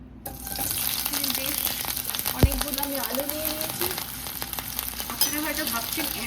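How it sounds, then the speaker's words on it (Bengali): Potatoes frying in a pan, a steady close sizzle with occasional stirring clinks, and a sharp knock partway through. "প্রথমে আলু ভাজতে হবে"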